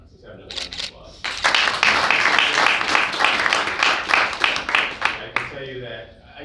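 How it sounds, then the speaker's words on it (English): A round of applause fills a hall at a California Legislative Black Caucus event on AP African American Studies: steady, dense clapping that swells after a brief start and fades out near the end. "Let's have another round of applause."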